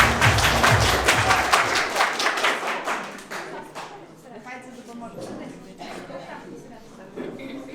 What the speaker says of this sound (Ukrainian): Оплески, оплески, не сидіть так скучно.